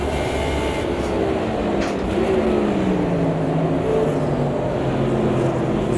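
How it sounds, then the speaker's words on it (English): A Lamborghini Veneno race car's engine approaches in Automobilista 2, a continuous loud roar whose pitch rises and shifts, heard alongside other engine noise. "Oh, here comes the Lamborghini."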